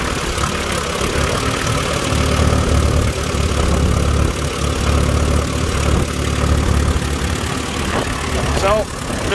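An Allis Chalmers WD tractor engine runs rough while baling in the field, a loud, continuous low chugging drone that holds steady throughout with slight irregular stumbles.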